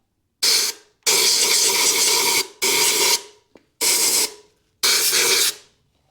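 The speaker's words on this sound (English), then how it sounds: "First I want to try and blow all the junk out of here." Compressed air blasts debris out of the chisel groove of a cheap Chinese rock hammer in five loud, sharp hissing bursts separated by short silences.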